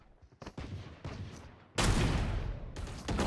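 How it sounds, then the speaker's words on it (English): Pistol shots from a match of the battle-royale game Apex Legends, heard as a few sharp cracks early on, then a loud sustained burst of rapid gunfire that stays dense and close to the end. "Bang, another shot. Bang, another shot."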